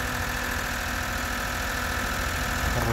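A 1989 Honda Acty's 550cc three-cylinder engine idling, a steady close low rumble with a faint hum and slight change near the end, no talk.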